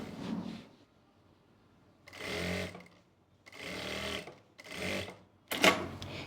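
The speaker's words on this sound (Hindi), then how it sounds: "यहाँ पे हम सिलाई लगाएंगे" Stitching a trouser waistband belt on a sewing machine: three short whirring runs separated by pauses, close and clear, ending with a sharp click.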